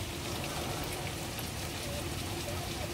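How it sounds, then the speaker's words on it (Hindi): Heavy rain pours down steadily, a dense, continuous hiss of drops hitting surfaces close by, even and unbroken throughout with no voices. "बहुत ही ज्यादा बारिश है"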